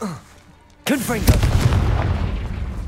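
Confringo blasting spell in Hogwarts Legacy, a sudden loud explosive boom after a short quiet lead-in, followed by a rumbling, crackling tail that carries on to the end.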